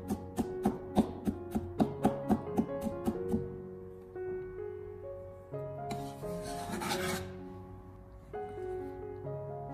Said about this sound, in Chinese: 拍过以后我们再把它改刀切成蒜末。